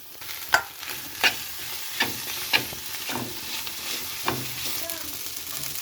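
Carrots, spring onion, egg, tomato and chilli fry together in a pan, a steady close sizzle broken by several sharp spatula scrapes and knocks at irregular intervals.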